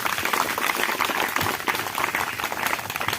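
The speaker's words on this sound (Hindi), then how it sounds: "ताली को बजाएं प्रभु के लिए।" Church congregation clapping in praise during a Hindi sermon, a dense, steady wash of many hands beating together, loud and continuous for the whole stretch with no talk over it.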